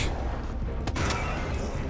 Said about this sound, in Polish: Trzy strzały powinny wystarczyć, żeby go zdjąć.